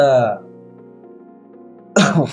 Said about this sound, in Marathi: खोकला जरा जास्त वाढलाय